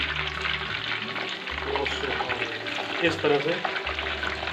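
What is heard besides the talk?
whole chicken (chargha) frying in hot oil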